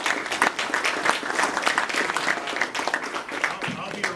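Steady applause from an audience, dense overlapping claps held at an even level for a few seconds, with no one speaking over it.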